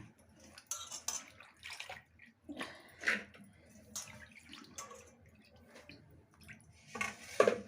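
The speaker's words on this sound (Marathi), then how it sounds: "आता त्याच्यामध्ये मी वरून पाणी टाकणार आहे." Water poured into a pressure cooker holding pigeon pea pods, set to be boiled with salt: quiet, close splashes and trickles come in short irregular bursts, with no talking.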